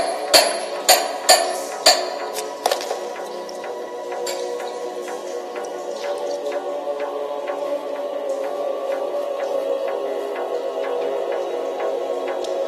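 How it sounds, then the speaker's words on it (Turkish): A hammer strikes a chisel in several sharp metallic taps, loud and close at first, then fading into a scatter of lighter, quicker ticks over a constant low background hum. "Bana bir keskiyle çekiç ver."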